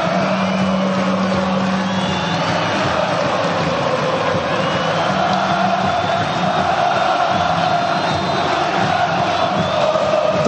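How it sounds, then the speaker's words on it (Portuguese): Corinthians football fans in a stadium roar and chant together, a dense, continuous wall of crowd noise with no letup. "A torcida grita"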